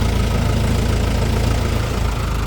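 A tractor engine runs on a potato farm, a loud, close, steady low diesel chug with a rapid even knocking pulse throughout.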